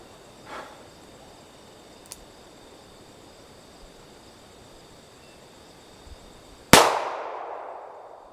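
A single .44 Magnum revolver shot fired over a chronograph at a 5-yard range: one sharp, loud crack with a ringing decay, set against a quiet outdoor background.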